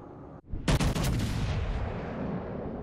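Battleship main-gun salvo in the naval video game World of Warships Legends, from the USS Minnesota: a brief lull, then a loud booming volley of several close blasts that rolls into a long sustained rumble.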